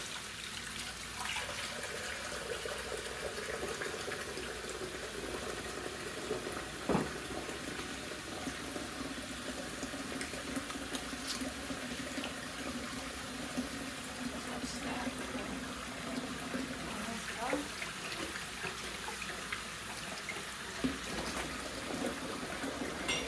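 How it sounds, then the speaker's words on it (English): Running tap water pouring steadily while hands are washed in a home kitchen, a constant close rush with small splashes and bumps scattered through it. "Let me get my hand washed."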